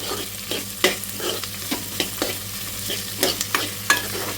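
Onions and cashews frying in a mix of ghee and oil for mint rice, a steady close sizzle broken by several sharp stirring scrapes and clacks, with no talking.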